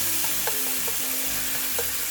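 Beef stir-frying with soy sauce and sugar: a steady loud sizzle with repeated clinks of a utensil scraping and tapping the pan, no talk.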